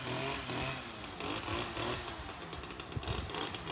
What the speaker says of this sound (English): Sorry, somebody's mowing. It's gonna get loud.